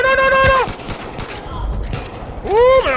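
Assault rifle gunfire in the video game Far Cry 5, with a free BP-2 rifle, comes as a loud rapid burst of shots between tonal game sound effects, alone without talk.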